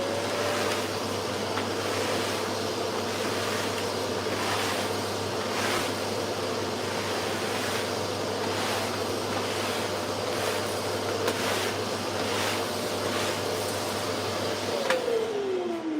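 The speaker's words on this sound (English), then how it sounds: "I've just got to hoover up quickly" A vacuum cleaner hoovers a woodworking workshop, its motor running as a continuous steady drone with a high whine, close and loud, before cutting off near the end.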